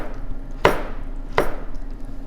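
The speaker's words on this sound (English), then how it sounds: "For the carrot, I'd like to take a little piece off the bottom of the carrot." A kitchen knife cuts a carrot into strips on a cutting board for corn chowder, two sharp, crisp chops about a second apart, close and clear against a quiet room.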